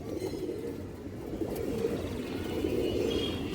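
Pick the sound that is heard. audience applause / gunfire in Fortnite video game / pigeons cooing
pigeons cooing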